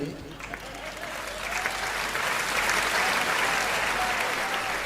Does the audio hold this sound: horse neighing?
no